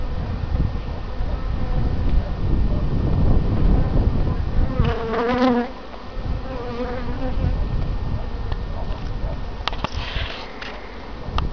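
Honey bees swarming at an open beehive, a dense, continuous buzzing drone up close with individual bees whining past, and brief sniffing sounds partway through.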